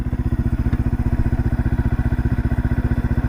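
A 1978 Kawasaki KL250 motorcycle with a newly installed carburetor idles steadily up close, its single-cylinder engine thumping in a fast, even pulse with a slight clattery edge.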